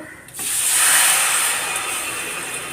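Tamarind water poured into hot oil while cooking fish curry, an abrupt loud sizzling hiss that bursts in and keeps steaming steadily, slowly easing off.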